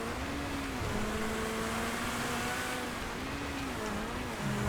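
The FMJ GTE race car in GTA drones loudly and steadily, its engine note wavering slightly as it shifts and accelerates, with other car noise around it and no talk.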